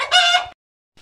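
A native black chicken on a farm gives one loud, close crow-like call, then a brief pause before another short call begins.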